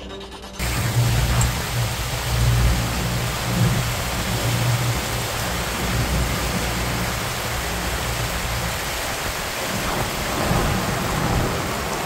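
A thunderstorm with heavy rain recorded on a phone by a fisherman: steady, loud rain hiss with low rumbling thunder rolling underneath, continuous throughout.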